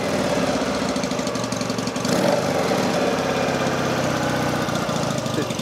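A Norton Commando motorcycle engine, recently rebored, runs at a fast idle close by with a steady, dense mechanical chatter and a continuous drone throughout.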